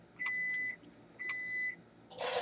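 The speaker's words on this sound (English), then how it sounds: "There goes my timer." A kitchen timer beeps twice while English muffins cook, each bright electronic tone lasting about half a second and close by, followed by a brief burst of rustling noise.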